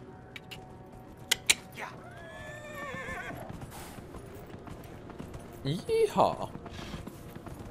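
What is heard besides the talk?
horse neighing and hooves, video game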